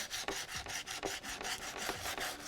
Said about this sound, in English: I'm just gonna start by lightly sanding the top surface to remove some of the material